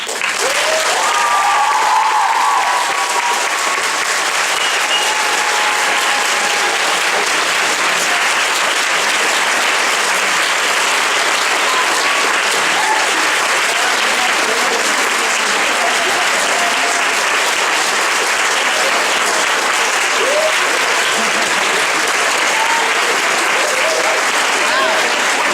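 Sustained audience applause at a graduation ceremony at a French international high school fills the room, steady and dense throughout with faint voices mixed in.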